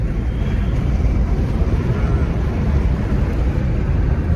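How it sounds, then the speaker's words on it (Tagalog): Cold wind roars steadily over the microphone while riding on the road toward Lakes, a loud, continuous buffeting rush with no speech. "hangin na malamig papunta naman ako ngayon sa Lakes"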